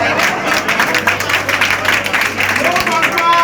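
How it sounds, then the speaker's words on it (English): An audience claps at a gathering honoring a mayor as president of a Lagos association, a loud, dense round of applause with crowd noise, a voice speaking over it. "I thought you should clap your hand."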